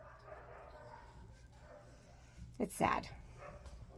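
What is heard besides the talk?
puppy barking and whimpering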